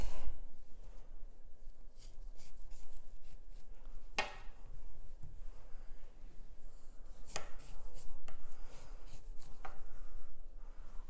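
Knife cutting limes on a cutting board in a kitchen, scattered dull knocks and slicing taps with a few sharper chops, irregular and close, no talk.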